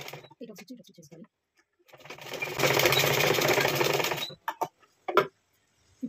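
A sewing machine runs in a steady burst of about two and a half seconds while stitching a blouse along a marked line, with soft handling clicks before and after and brief talk around it.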